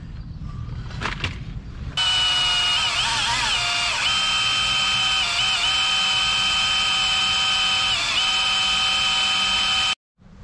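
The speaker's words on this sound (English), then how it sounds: "so I'm drilling the last hole, or finishing drilling the last hole." A power drill whines continuously at high pitch while drilling a hole for a tow hitch on a 2002 MCI bus, its tone wavering slightly as it bites, then cuts off abruptly near the end.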